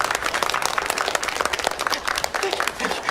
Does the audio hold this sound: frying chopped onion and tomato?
no